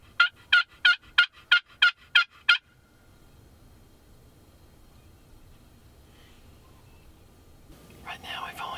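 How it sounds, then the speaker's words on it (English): Wild turkeys in Kansas at dawn: a rapid series of seven loud gobbling bursts in quick rhythm, followed by quiet ambience and a faint whisper near the end. "Right now we've only heard about 2 turkeys gobble."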